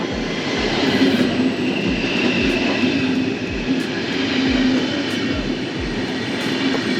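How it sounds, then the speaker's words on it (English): A train arrives at Martigny station in Switzerland, rumbling past close by with a steady roar and rhythmic low thumps as wheels cross rail joints. "the train is arriving"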